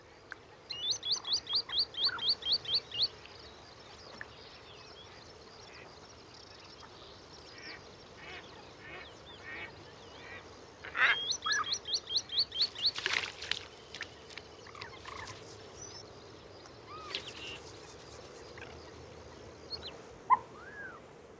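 Wintering birds call across a desert wetland in Arabia. Rapid rhythmic series of clear piping notes come in bursts, with scattered chirps and duck-like calls over a soft, steady outdoor background.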